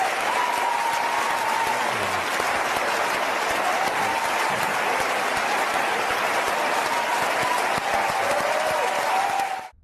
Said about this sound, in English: the ovation for Mr. De Niro went on for about 2 minutes